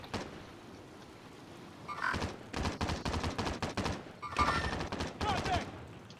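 Call of Duty Warzone gunfire, heard as rapid, clustered bursts of fairly distant shots that come in several quick volleys separated by short pauses, against a quiet background.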